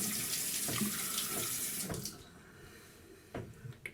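A bathroom tap runs strongly while shaving gear gets rinsed under it. The gush is steady and close, then cuts off, leaving a few small knocks and drips.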